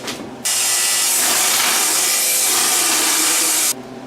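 A wooden cleat is cut down smaller with a saw, a loud close rasping whine that starts abruptly, holds steady for about three seconds, then cuts off sharply.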